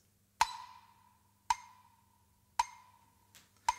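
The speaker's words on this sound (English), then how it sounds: "this time we're going to use a metronome." A metronome clicks four times, evenly spaced about a second apart. Each click is crisp and isolated against near silence, with a faint low hum in the background.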